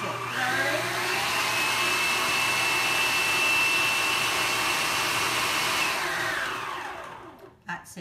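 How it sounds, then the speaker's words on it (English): A Kenwood stand mixer beating Christmas cake mixture, a steady close whirring motor hum running for several seconds before winding down, followed by a brief clatter. "This is my Kenwood, my very favourite mixer"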